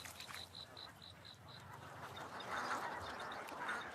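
Ducks in a rice field give a run of evenly spaced short quacks, faint and somewhat distant, over steady outdoor background noise.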